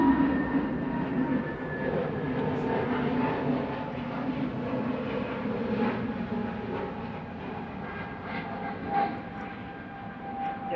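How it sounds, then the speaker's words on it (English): An aircraft departs Manchester Airport bound for Belfast, ahead of an A380, its broad engine roar steady and moderately distant across the whole stretch, with no voices over it. "Just departing ahead of the A380 is Guzus GUZHS going off to Belfast flight 713"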